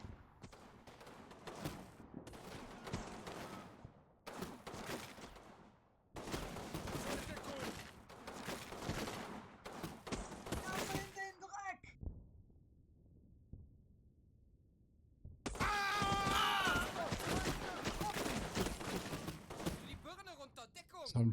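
Gunfire in a platoon firefight against German troops, dense bursts of shots crackling in dense runs with a short lull before heavy fire resumes, loud and close throughout.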